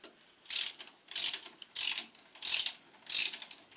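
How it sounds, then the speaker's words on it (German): Ratchet wrench loosening the tensioner rod bolts on a Porsche 968 engine, heard as five separate bursts of rapid clicking, close and fairly loud, each about a third of a second long with short pauses between them. "Dann lösen wir wieder die Schrauben der Spannstange."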